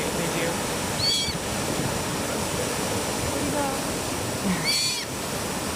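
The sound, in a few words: ocean waves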